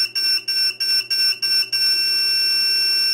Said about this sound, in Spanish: Daos cuenta cómo se va incrementando el pitido.